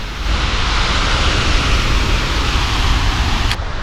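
A steady, loud whirring drone holds constant throughout near Perunthenaruvi waterfall, Pathanamthitta, a continuous airborne buzz with no voices.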